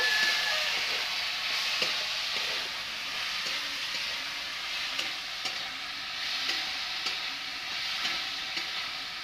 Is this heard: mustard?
yes